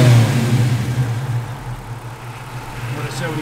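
A 1973 Plymouth Barracuda resto-mod with an electric fuel pump runs and revs briefly, a loud low engine note that settles toward idle, close by.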